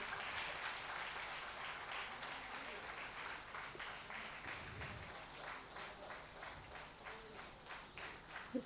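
Applause from the audience at a convocation ceremony, fairly faint and distant, a patter of many hands that swells and fades in uneven pulses, with some murmuring underneath.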